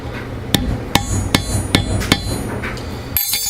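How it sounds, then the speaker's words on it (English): A hammer sets a rivet end cap on a leather knife sheath with about six sharp, evenly spaced taps close by. A final louder knock follows a short pause. "Hammer that."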